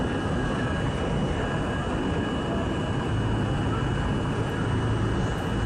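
A 1964 Budd Co. R32 subway car on a Euclid Avenue-bound C train in New York, heard as a loud, steady rumble and roar of wheels on track, continuous and close throughout.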